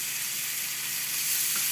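Steady, even sizzling of steak frying in a hot pan, a continuous crackling hiss with no voices.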